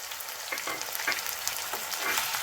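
Chopped tomatoes fry in a pan for a palak chicken dish, producing a continuous loud hissing sizzle with soft stirring scrapes, close-up and without voices.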